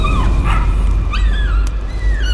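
A dog in the horror game Layers of Fear gives loud, close whimpering yips and short whines, several rising cries over a low rumbling background.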